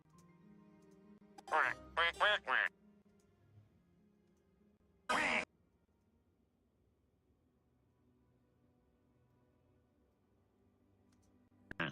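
A human voice imitates a duck with a few quick quacks close to the microphone, followed after a pause by one more quack over a faint background hum.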